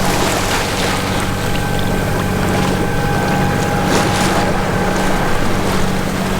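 A sailboat crosses choppy sea off the UK coast near St Alban's Head, heading for Yarmouth. Constant loud wash of water and wind rushes across the microphone, with a steady hum beneath it and no voices.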